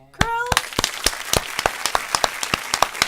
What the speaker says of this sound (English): Can we get another hand clap, crew?